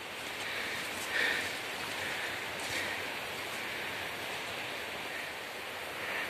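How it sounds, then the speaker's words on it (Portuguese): Water of a small creek near Pinheirinhos, Petrópolis, runs in a steady broadband wash, fairly faint and continuous with no speech over it. "Aqui atrás tem outro córrego."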